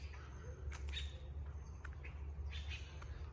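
Birds call and chirp in early morning in Tulum, Mexico, with short bright squawks and tweets scattered over a steady low rumble of wind or distant traffic.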